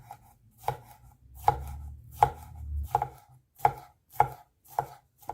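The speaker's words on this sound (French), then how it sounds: "Coupez en lamelles vos poivrons comme ceci" A knife slices bell peppers into strips on a cutting board with about nine crisp, evenly spaced chops, close and clear with no talk.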